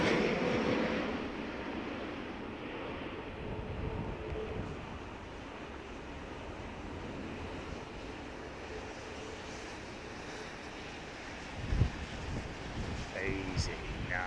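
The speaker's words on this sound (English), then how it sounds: "It's blustery, isn't it? It's blustery is what it is." Strong gusting wind at London Heathrow Airport during Storm Darragh roars steadily into the microphone, a continuous buffeting rush that eases slightly in the middle, with faint voices now and then.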